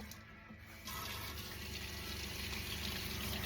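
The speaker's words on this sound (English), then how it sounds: "Let's see if we get water to the sink now" Water runs steadily from a tap into the sink of a camper van fed by a pump and a Thermomate ES250 electric water heater, starting softly then surging to a strong, continuous gush at close range.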